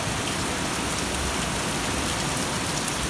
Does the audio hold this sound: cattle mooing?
no